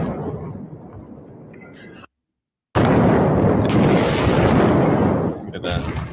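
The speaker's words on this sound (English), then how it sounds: "And these are some massive, massive explosions." Massive wartime explosions over Esfahan: loud, broadband roaring blasts, cut by a brief stretch of silence, then a sustained, even heavier rumble that tails off near the end.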